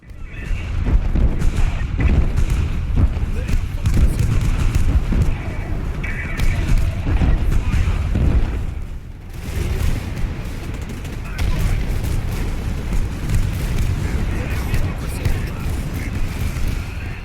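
Dense, continuous rumbling explosions and gunfire-like bursts boom loudly and chaotically, with a brief dip before the barrage resumes, like a busy battle soundtrack, in a Command & Conquer video game.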